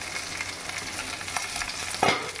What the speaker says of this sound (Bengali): এবার এগুলো সব একসাথে আমি ভাজা করে নেবো মাছের সাথে